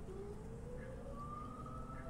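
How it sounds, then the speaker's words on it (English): A storm warning siren in the Storm Chasers Online game wails with a slowly rising tone, steady and far off over a constant low rumble of wind, continuous throughout. "That thing's got a really good siren."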